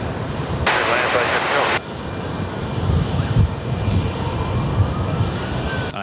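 Airplane landing and rolling out at Perth Airport, a loud steady engine roar with a brief burst of rushing noise, under ongoing talk.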